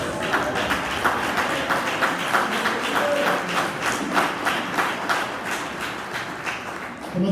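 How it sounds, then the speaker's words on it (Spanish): A church congregation at an annual conference in Mexico applauds together in a steady, dense wash of clapping that holds at an even level throughout, with no voices standing out above it. "Den un fuerte aplauso al Señor"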